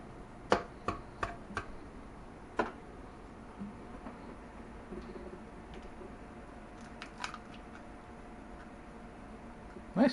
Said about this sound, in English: I've been practicing my egg cracking.